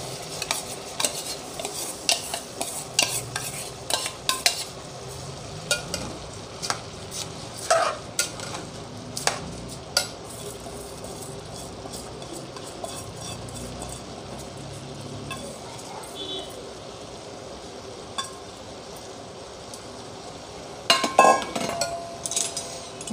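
Mung dal and rice stirred as they fry in a pot for Kashmiri dry moong khichdi: a spoon scrapes and clinks against the metal in an uneven rhythm over a low, steady sizzle, with a louder cluster of scrapes near the end.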